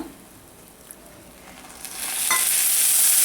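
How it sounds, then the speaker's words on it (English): Quiet at first, then a sizzling hiss rises and grows loud as water hits a hot pan of jaggery, continuing to bubble and fry. "So I'm taking the jaggery into a pan. I'm going to add in some"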